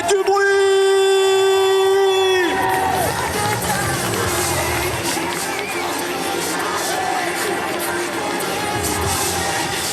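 A crowd at a cosplay parade at an otaku festival roars and cheers loudly, breaking in after a sustained musical tone and continuing as a dense, steady wall of shouting and applause.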